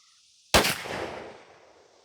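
A single loud 12-gauge shotgun blast from a Remington 870 pump firing a Winchester Upland 2-3/4 inch #4 shell, a sharp close report followed by a decaying echo tail.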